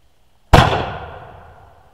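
A bamboo handgonne test-fires on black powder, one sharp, loud blast that cuts through near silence and then rings and decays over about a second and a half.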